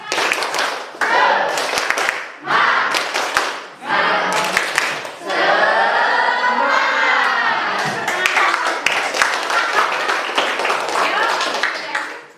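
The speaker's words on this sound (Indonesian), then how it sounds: "Tepuk semangat ya. 1, 2, 3. Tepuk semangat" A group of teachers in a training session performs a tepuk semangat clapping chant, with rhythmic clapping in short patterned bursts alternating with loud chanted voices and a drawn-out shout in the middle.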